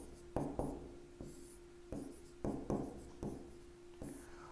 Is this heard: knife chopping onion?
no